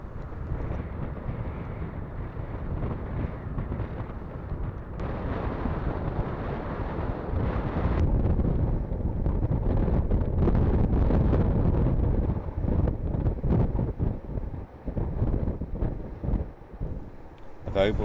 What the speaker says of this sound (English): The next day was quite windy